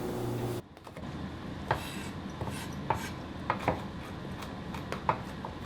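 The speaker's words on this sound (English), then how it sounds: "I chop the red chilies, keeping the seeds in." A kitchen knife chops Thai red chilies, seeds left in, on a cutting board, making a series of crisp, irregular taps close up after a brief initial hum, with no talking.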